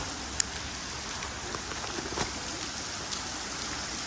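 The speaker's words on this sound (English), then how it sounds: "Monsoon rain, thunder, lightning, shouldn't be on the water." Monsoon rain falls on a river during a thunderstorm, a faint steady hiss of drops on water with a few soft patters and splashes, distant and even throughout.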